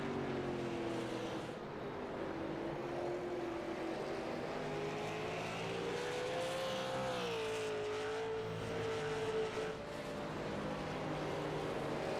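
A race car laps the track at Myrtle Beach in a simulated league race, its engine droning steadily close by with pitch rising and falling through gear changes and corners.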